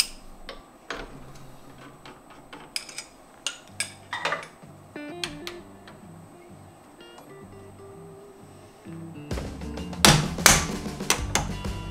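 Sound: removing a drill chuck from a CNC machine spindle

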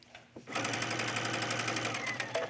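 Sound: sewing machine backstitching a tunic collar

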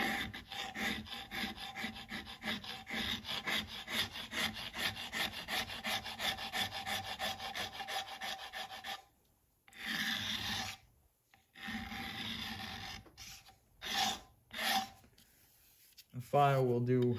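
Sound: filing burrs off a metal edge on a bulldozer

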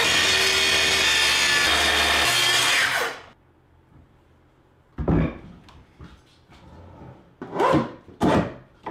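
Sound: track saw cutting through glued wood joint

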